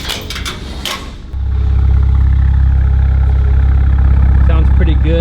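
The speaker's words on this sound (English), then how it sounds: "I'll let the car warm up just a little bit and then give it a few revs and see how it sounds." A BMW 335i with the N54 engine, freshly flash tuned with MHD, starts up in a garage and settles into a loud, steady, deep idle after a short stretch of clicking and handling sounds.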